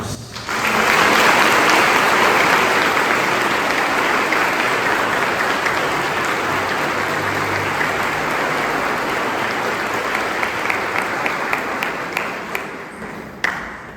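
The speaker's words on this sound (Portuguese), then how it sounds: "com uma salva de palmas" A church congregation applauds during a Mass for the commissioning of extraordinary ministers of the Eucharist, a dense, steady round of clapping lasting about thirteen seconds before tapering off and stopping.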